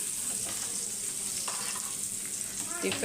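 Elephant yam fries in a pan over low heat, a steady, moderately quiet sizzle running throughout with a few faint stirring scrapes and no talk.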